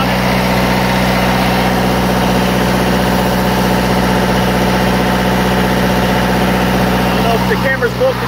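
An Onan 12.0 DJC engine fitted with a 15 kilowatt generator head runs steadily under load, giving a loud, continuous low rumble and drone throughout, close up and unbroken.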